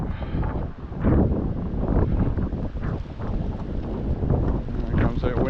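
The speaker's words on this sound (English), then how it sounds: "Here comes that wind again." Cold wind gusts buffet the microphone outdoors on a walk in Lewiston, Maine, a loud rumbling roar that rises and falls in waves for several seconds.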